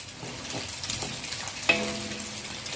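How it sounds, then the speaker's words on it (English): Vegetarian salted fish frying in a wok with crumbled egg for fried rice: a steady soft sizzle with light stirring scrapes and one sharp metallic clink. "After the egg is crumbled, we put in the salted fish."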